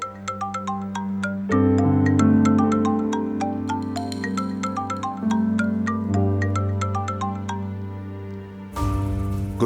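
A mobile phone ringtone plays a bright, plucked, repeating melody for several seconds in a dubbed Turkish drama morning scene, with a steady backing tone beneath it. It breaks off abruptly into a short burst of noise.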